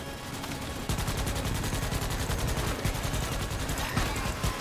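Steady covering gunfire in a shooter game, a fast, evenly spaced automatic stream of shots that starts abruptly and keeps a constant loud level over a noisy background.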